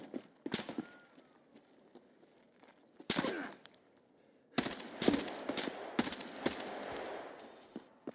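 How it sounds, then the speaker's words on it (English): Gunfire inside a building in the shooter game Escape From Tarkov, muffled and somewhat distant: scattered single shots early, then a denser volley of rapid bursts and clatter in the second half. "I think I just heard shots inside."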